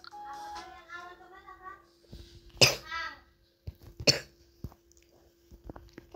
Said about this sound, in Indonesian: di video kali ini aku agak sedikit batuk